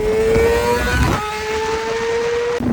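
A motorcycle ridden hard in Switzerland, its engine holding a loud, steady high-revving whine close by, briefly dipping and climbing again with a gear change, then cutting off abruptly near the end.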